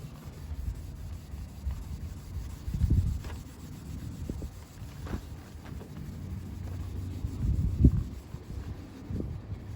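Terry cloth bath towel rubbing Lukat paint cleaner onto a car's paint in soft, irregular swishes that swell and fade, fairly close with light background hiss and no talking.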